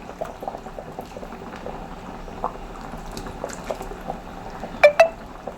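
Steady bubbling of Kerala-style fish head curry gravy simmering in a pan, with soft pops throughout and a couple of sharper splashes near the end.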